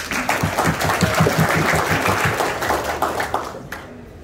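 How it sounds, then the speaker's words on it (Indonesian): Seminar attendees at an Islamic boarding school in Serang clap together, a burst of rhythmic, fairly close applause that gradually thins and fades out. "kita beri tepuk tangan ya"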